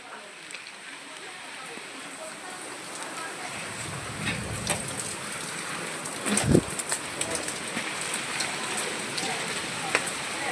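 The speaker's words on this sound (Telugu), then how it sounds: "వాన చూడండి జోరుగా వాన పడుతుంది" Heavy rain pours steadily on a street near a railway station, a constant broadband hiss throughout with a brief louder splash or gust midway, and some faint background sounds underneath.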